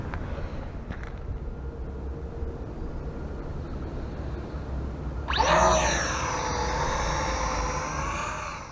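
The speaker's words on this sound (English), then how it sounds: "So this Visuo drone that I'm flying here is basically a little more than a toy drone." A Visuo toy drone spins up partway through, its high, thin whine of small rotors wavering in pitch over steady outdoor background noise near a skateboarding session.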